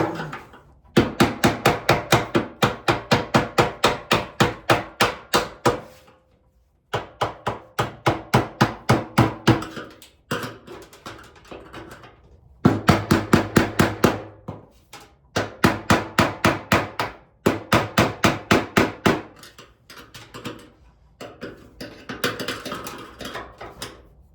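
Hammer blows while fitting an internal fuel pump into a converted fuel tank: bursts of quick, sharp, evenly spaced metallic strikes, each run of about ten hits separated by brief pauses, close and fairly loud.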